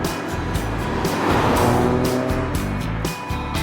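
A 2016 Ford Focus RS with all-wheel drive is driven flat out in sport mode, its engine a loud steady roar that rises and shifts in pitch as it pulls, heard close from on board without talk.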